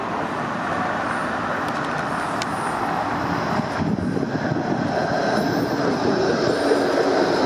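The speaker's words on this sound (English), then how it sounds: "your regular trams run the Route 96" A-class tram passing on the St Kilda light rail line, a steady rolling rumble of wheels on track with faint high squeal traces, loud and close throughout with a slight swell toward the end.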